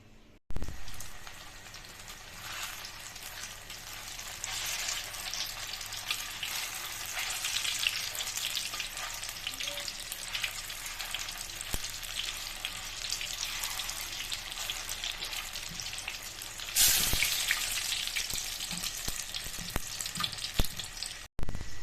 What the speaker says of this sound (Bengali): এই দেখো কড়াই থেকে তুলে নিয়েছি লাল লাল করে ভেজে